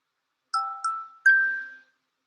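An iPhone plays a clear notification chime of three bright tones against silence: two short notes and then a longer ringing one that fades out, loud and close.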